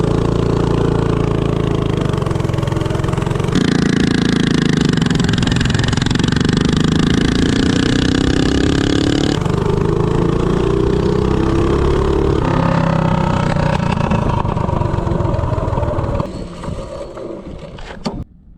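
A minibike with a DuroMax 208 engine, 4-to-1 gearing and a 15-tooth clutch, accelerating from 0 to 30: a loud, close engine roar climbing in pitch through several surges, then dropping off and fading near the end.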